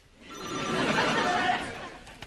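A telephone rings in a domestic sitcom scene, one sustained ringing burst lasting about a second and a half, fairly close and moderately loud, with faint room noise around it.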